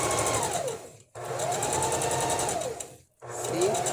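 Sewing machine stitching shapes into fabric runs in three steady whirring bursts with short pauses between them, close and fairly loud, with no talk.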